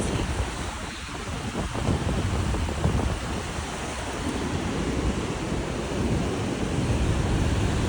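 Steady roaring rush of water falling at Niagara Falls, dense and continuous, with gusty wind buffeting the microphone throughout.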